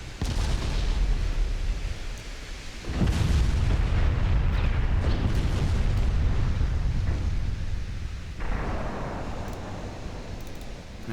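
Battleship artillery booms and rumbles in a naval video game set in the dreadnought era, with heavy, sustained, reverberating blasts and roaring explosions layered close together and no break in the din.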